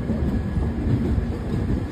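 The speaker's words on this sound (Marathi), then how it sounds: "कोकण रेल्वेमध्ये आपलं स्वागत आहे." The Netravati Express runs along the Konkan Railway, a continuous loud rumble of wheels and carriages heard from inside the train with no voices.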